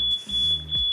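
A triggered smoke detector, the second-floor unit of a fire detection and alarm system, emits a continuous shrill beep tone held steady throughout, loud and close with low background noise.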